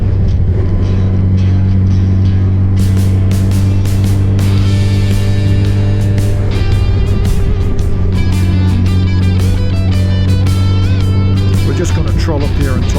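Yamaha FJR 1300 motorcycle cruising in top gear on a Lake District pass, a loud, steady engine drone with heavy wind rush, as someone talks over it throughout.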